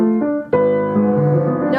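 Grieg Piano Concerto passage on piano played without the sustain pedal, a steady run of clear, close notes with a sharp new attack midway, each note held and connected rather than ringing over.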